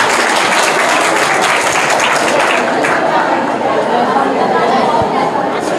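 An audience at a live quiz show claps loudly, and the applause spreads into crowd chatter and voices. It stays close and fairly dense, then thins slightly toward the end.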